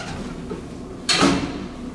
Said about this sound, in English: When the Westie wants to close,